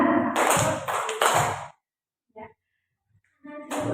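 A group plays a rhythmic two-beat clapping game as an icebreaker, right hand then left, with dense bursts of claps followed by a near-silent pause, a faint voice, and the clapping resuming.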